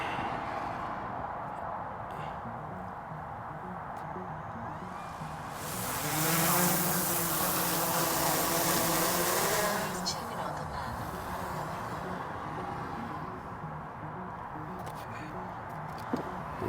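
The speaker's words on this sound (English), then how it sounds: "it's quite noisy at this location, especially with the traffic and the wind" Outdoor traffic rumble mixed with gusting wind buffeting, with a louder swell of passing vehicle noise in the middle, continuous and moderately distant; a voice is heard speaking.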